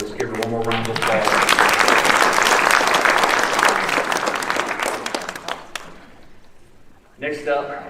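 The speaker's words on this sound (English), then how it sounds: "Let's give her one more round of applause." An audience in a hall gives sustained, dense clapping at the 2023 UAM Sports Hall of Fame ceremony. The applause swells for several seconds and then fades, with a speaker's amplified voice just before and after.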